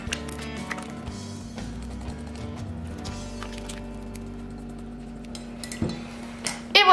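Utensil scraping and clinking in a bowl while mixing a tart filling of smoked salmon, broccoli, pepper and dill, soft irregular clatter building to louder knocks near the end.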